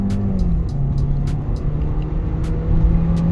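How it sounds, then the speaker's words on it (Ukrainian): A 2020 Hyundai Sonata Hybrid SEL with a 2.0 automatic accelerating from a standstill toward 100 km/h uphill, a steady in-cabin engine drone and road roar holding throughout with a slight rise near the end, no talking. "Тепер спробуємо від нуля до сотні, як вона буде їхати. Ми рухаємося в горку."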